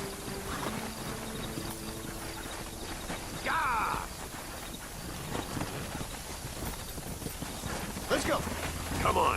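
Rhythmic horse hoof clip-clops in Red Dead Redemption over a busy game soundscape with music and background noise, steady and moderately loud throughout.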